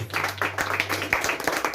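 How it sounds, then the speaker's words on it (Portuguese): A church congregation claps in praise during an evening service, quick, uneven rounds of hand claps in a room over a low steady hum. "dando um louvor de palmas para o Senhor nessa noite."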